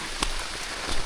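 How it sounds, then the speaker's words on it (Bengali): Rain falls steadily on a hill trail, a soft, even hiss of drops close by with a couple of slightly heavier patters, and no voices. "বৃষ্টিটা নামতে নামতে পানির লেভেলটা যদি বাইরে যায় তাহলে বিপদ।"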